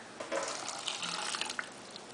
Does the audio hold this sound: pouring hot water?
yes